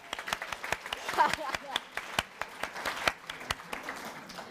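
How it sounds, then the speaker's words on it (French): An audience clapping at a biology quiz event, a sparse scattering of distinct hand claps in an uneven rhythm, fairly quiet and thin rather than a full roar. "Allez, un applaudissement encore."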